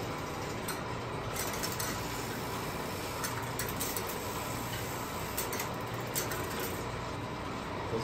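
A panel switch telephone exchange with its selector machinery running, a continuous low mechanical rumble with scattered faint clicks and ticks throughout.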